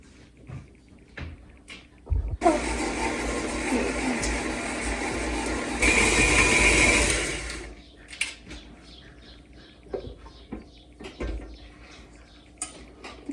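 An electric mixer whirs loudly for about five seconds, growing harsher midway, as it beats chocolate chip cookie dough in a home kitchen with children. Clinks and clatter from the bowl and utensils come before and after.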